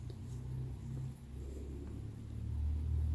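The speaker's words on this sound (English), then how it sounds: "that was that car pulling up" A car pulling up outside at night near a cemetery, a low distant engine rumble that swells slightly toward the end, with no voices.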